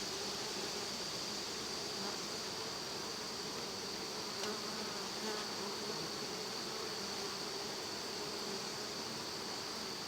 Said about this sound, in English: There's going to be a lot of winter bees in this hive.